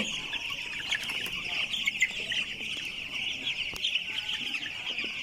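Broiler chickens clucking continuously in a poultry shed, a dense chorus of overlapping high calls, close and steady throughout.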